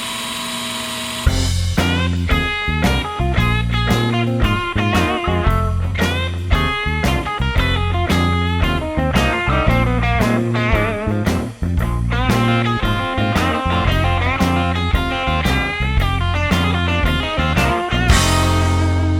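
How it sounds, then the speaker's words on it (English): Power drill running steadily in reverse against the gel coat of a Yamaha boat, a continuous buzzing whine with rapid regular pulsing that starts abruptly and cuts off near the end, close and loud with no talking. "So I'm going to drill in reverse first"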